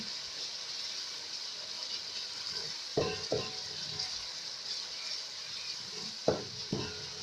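Sauce frying in a pan, a constant close sizzle with a few sharp scraping stirs of a utensil breaking through at intervals.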